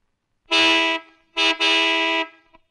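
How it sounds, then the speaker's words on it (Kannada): A loud vehicle horn honks nearby: one long blast, then a short toot followed by another sustained blare. "ಹಾರ್ನ್ ತುಂಬಾ ಚೆನ್ನಾಗಿದೆ."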